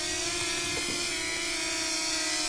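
A DJI Flip drone flying in active track mode gives off a steady, close propeller buzz with a constant high whine that holds level throughout.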